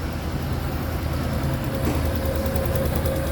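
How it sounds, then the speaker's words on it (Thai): A new Honda scooter engine idles steadily close by, a smooth low hum with a faint higher whine, continuous and fairly quiet with no talking. "อันนี้ก็ลองเครื่องก่อนส่งมอบลูกค้านะครับ เครื่องตัวใหม่นี่เงียบมากนะครับ"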